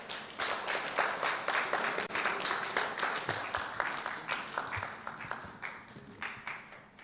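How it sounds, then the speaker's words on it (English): Sustained applause from an audience at a business forum on agribusiness in Ghana, steady clapping filling the room for several seconds after a speech, fairly even in level throughout. "I think he deserves a better round of applause."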